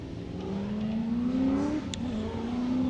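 A Corvette race car accelerating onto the track during qualifying at Texas in 2018, a steady engine note rising in pitch as it pulls away, smooth and continuous at moderate distance.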